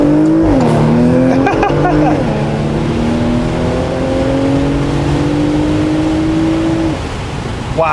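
A 2020 Porsche Macan Turbo accelerating hard, its engine note climbing loudly through gear changes with brief dips between shifts, heard close from inside the car.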